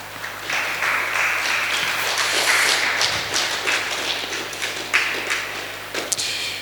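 A church congregation breaks into sustained applause, a dense crowd of claps that holds steady for several seconds with scattered louder slaps.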